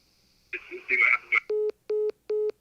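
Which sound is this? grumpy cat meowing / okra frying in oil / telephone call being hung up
telephone call being hung up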